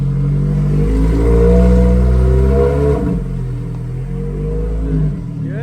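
Ferrari 430 V8 revving lightly under a small touch of throttle after a manual gearbox swap, a close, steady low rumble that swells and falls back with no talking.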